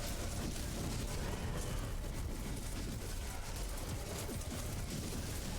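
A necromancer's fire explosion skill in a video game, a dense continuous roar of crackling blasts and rumbling booms that stays loud and unbroken throughout, with no voices.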